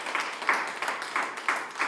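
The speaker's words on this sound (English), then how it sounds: "Can we give a round of applause for IPOB" An audience at an IPOB leadership inauguration gathering in Malaga applauds with a dense, continuous patter of many hands that swells in short surges, heard from a moderate distance.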